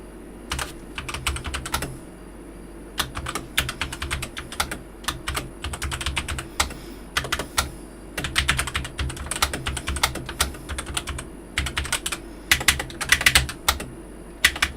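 Rapid clicking keystrokes on a new computer keyboard, coming in irregular bursts and flurries with short pauses, close and fairly quiet, with no talking over them.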